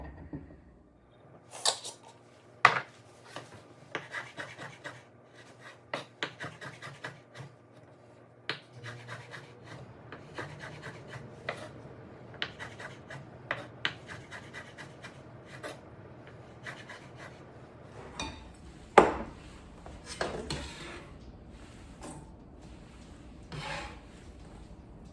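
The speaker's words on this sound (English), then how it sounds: "So I've got dates and apricots, and I am just going to thinly slice these up." A knife thinly slices dried dates and apricots on a board, giving close, crisp repeated cuts and taps in an uneven rhythm that quicken toward the end, with no voices.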